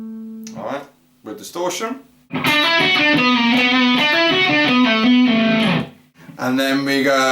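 Electric guitar run through distortion plays a sustained lick from a solo, preceded by a few short clean plucked notes, then a loud, thick, ringing phrase with bends and pull-offs lasting several seconds before another note picks up.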